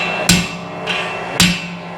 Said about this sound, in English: I'll use like a steel rod and a hammer